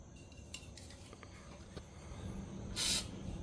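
A short hiss of WD-40 sprayed onto old, stubborn hose clamps under a Chevy Blazer, one bright burst near the end after faint clinks and rustling in a quiet garage.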